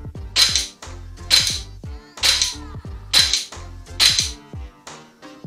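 Five sharp pistol shots ring out at a steady pace, each loud crack trailing off into a short echo, fired at targets during a weapons transition drill at a range, with no voices.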